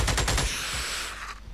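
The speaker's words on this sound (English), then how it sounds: "Light machine gun. Side strafe. One. Unload an entire clip." A light machine gun firing in the Xenonauts video game, a fast, loud burst of rapid shots in the first half second followed by a fading, reverberant tail.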